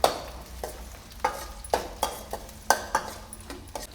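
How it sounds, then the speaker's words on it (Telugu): Onions frying in a pan for bendakaya bajji, with a steady soft sizzle broken by repeated scraping and clinking strokes of a spatula against the pan, close and alone. "ఇది ఇంత మాత్రం వేయించుకోండి, మరి ఎర్రగొద్దు."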